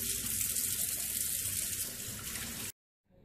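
Tap water runs steadily into a sink while honey is washed off a face, a close, hissing splash that continues evenly and then cuts off abruptly near the end, leaving near silence.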